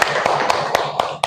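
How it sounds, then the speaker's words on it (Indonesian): A classroom group claps in a steady beat, about six sharp, evenly spaced hand claps close by, with no talking over them. "Iya, tepuk tangan untuk kita semua."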